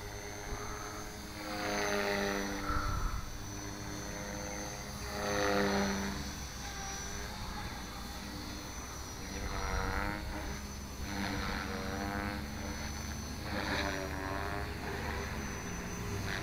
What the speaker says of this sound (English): I love how connected this helicopter feels whenever it's on.